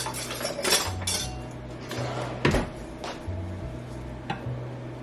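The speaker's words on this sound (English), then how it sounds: "I'm actually going to use a whisk. That way I can mix it in a little bit better." A whisk beating cookie mix in a bowl in a Christmas kitchen gives quick rhythmic metallic clinks and taps, close and fairly loud, with one sharper knock midway and no voices.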